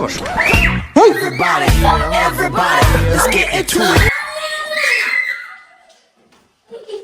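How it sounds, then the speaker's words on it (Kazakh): Two children shriek and scream loudly and excitedly indoors after spotting a small insect, their high cries overlapping for several seconds before fading into quiet, with a brief sound returning at the end. "Екеуі бір малюсенький бір насекомды көрген ғой, шыңғырып жатыр ғой екеуі"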